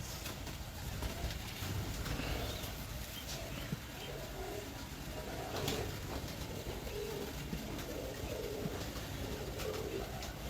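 Racing pigeons coo in a loft, soft overlapping throaty calls scattered across a steady murmur of background noise, fairly faint throughout.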